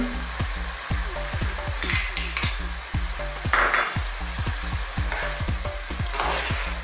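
Fish and bitter melon stir-frying in a pan with spring onion, a steady loud sizzle under a quick regular rhythm of spatula scrapes and clacks against the pan, close and continuous with no talk.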